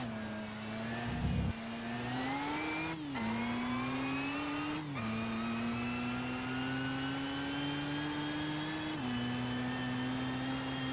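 Engine of a concept car in Gran Turismo 5, droning loudly and steadily, rising gradually in pitch with brief dips at shifts, with no voices over it.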